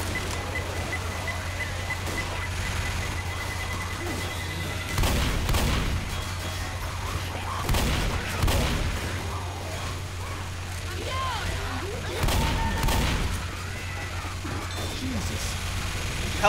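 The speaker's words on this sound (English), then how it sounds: "Pipe bomb!" A pipe bomb goes off amid gunfire in the Left 4 Dead video game, with several heavy booming bursts spaced a few seconds apart over a constant mechanical hum and scattered shots.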